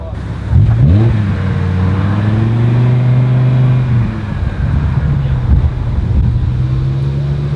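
A car engine revs up sharply during a police exhaust noise test, then holds a loud steady drone for a few seconds before dropping and rising again, close by with low rumbling exhaust.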